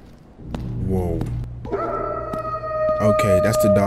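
The dog man in a horror video game lets out a rising, drawn-out howl, preceded by short yelps and whines that grow louder toward the end.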